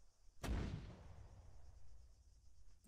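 An artillery gun firing in a video game, one sharp heavy boom with a deep rumbling tail that fades slowly, heard fairly faint and alone.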